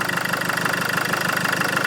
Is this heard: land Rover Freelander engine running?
yes